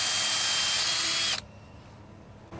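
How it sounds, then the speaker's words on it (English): A power drill whines loudly, boring a hole in wood while a drying table for salad greens is built, then cuts off abruptly, leaving quiet room tone before a faint clatter at the end. "So I drilled my hole where I know it needs to be"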